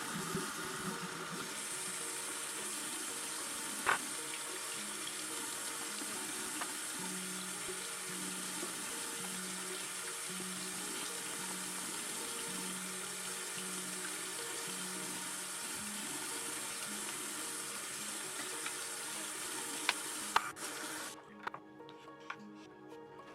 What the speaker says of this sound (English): And we're just going to wash these.